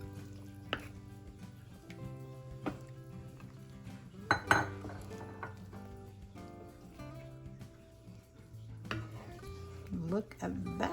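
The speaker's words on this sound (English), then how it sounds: "So I'm just going to add the pigtail in now." Pigtail pieces going into a cooking pot for Jamaican stewed peas with beef, heard as a few clanking knocks and clinks of metal cookware and utensils, with a louder clatter midway and a voice talking throughout.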